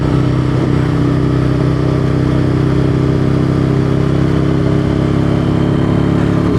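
Aprilia motorcycle engine running steadily on a shakedown ride, a loud continuous drone with strong low harmonics and no pauses or voices throughout.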